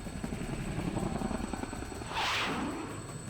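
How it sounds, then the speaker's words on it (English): A helicopter in the Persona 4 Arena Ultimax video game banks into a sharp evasive turn, its steady rotor drone swelling briefly into a louder rushing whoosh before settling back. "the helicopter makes a sharp turn and we're all thrown to the side"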